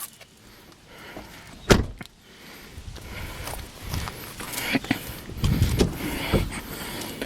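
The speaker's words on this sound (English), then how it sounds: "now let's go ahead and pop our trunk open" A 2000 Dodge Intrepid ES trunk lid pops open from its release button inside the car: one short, dull latch thunk, then faint mechanical rustling and movement over a low background.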